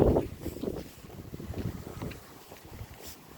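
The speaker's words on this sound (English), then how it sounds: "the winds are starting to pick up" Strong gusting wind during a wind advisory roars in low, buffeting rushes against the microphone outdoors, loudest at the start, then easing into a steadier rumble.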